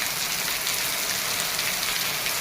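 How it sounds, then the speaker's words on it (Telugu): Heavy summer rain pours down steadily in a village in May, a dense, even hiss of drops drumming on surfaces nearby with no break or voice. "ఎండాకాలం వర్షం పడుతుంది"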